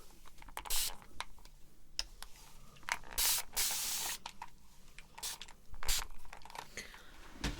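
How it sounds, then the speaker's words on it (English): A spray bottle spritzes water onto hair during an ASMR haircut, several short, sharp hissing bursts in quick succession, close and crisp, separated by quiet pauses with faint handling sounds. "So let me just spritz a little bit more."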